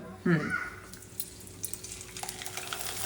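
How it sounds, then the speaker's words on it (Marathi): Papad sizzles and crackles in hot oil, a brief burst of louder bubbling at first, then lighter crackling and popping. "पापड तळायला घेतलेले आहेत"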